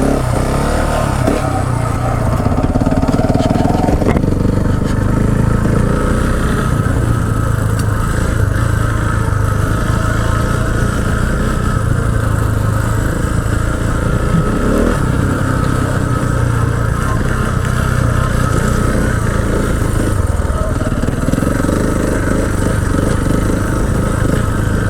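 A KTM 690 Enduro single-cylinder dual sport motorcycle climbing a hill on singletrack, its engine droning steadily and close throughout with slight changes in load, wind noise mixed in, no talking.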